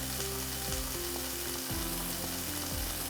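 Broad beans cook in a pan with a steady even frying sizzle over a low constant hum, heard alone and close without any voices.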